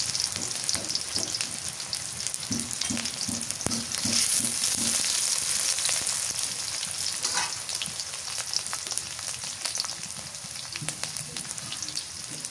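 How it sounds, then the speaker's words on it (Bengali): Onions and green chillies frying in hot oil, a dense continuous sizzle and crackle heard up close, with a run of soft rhythmic scraping thumps early on as the pan is stirred; no voices. "তেলটা গরম হচ্ছে, পেঁয়াজ দিয়ে দিবেন। কাঁচামরিচ দিয়ে দিবেন।"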